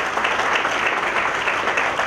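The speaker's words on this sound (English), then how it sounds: "That really a big round of applause to the parents." An auditorium audience at a university graduation ceremony claps steadily throughout, a dense, sustained wash of applause from many hands with no talk over it.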